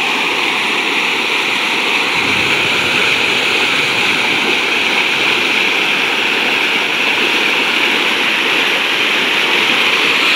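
Fast-flowing floodwater rushes through a village in a loud, steady, unbroken roar of churning water, with no voices over it.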